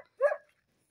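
A dog guarding a house in the Brazilian sertão gives a single sharp bark, moderately close, with no talking over it.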